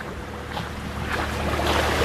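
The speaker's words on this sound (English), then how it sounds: "You can hear a boat in the distance." A distant boat's steady low engine drone hums beneath wind and gentle surf on a beach at Babanga Island, growing slightly louder over the few seconds.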